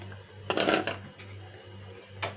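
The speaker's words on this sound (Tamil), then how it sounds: "இப்போது புளி கரைச்சல் ஊற்றிக்கலாம்." Tamarind water poured into a cooking pot gives a short splashing burst of liquid, followed by a quieter trickle, heard close over a steady low kitchen hum.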